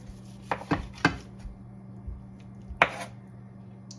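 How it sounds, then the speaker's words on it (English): Knife chopping food on a board with an akiri knife: a few crisp, separate chops near the mic, two close together early, one more after a pause, and another later, over a quiet room hum. "I'm cutting it and keeping it in the juice"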